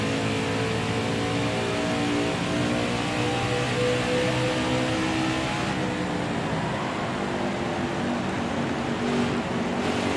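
A race truck engine in the NASCAR Heat 4 video game drones loud and steady throughout, a dense continuous roar with layered tonal whine and no voice over it.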